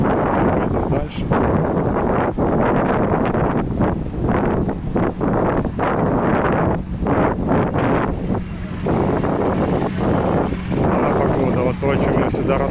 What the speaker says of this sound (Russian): сейчас уже даже порывы ветра, капюшон натягиваю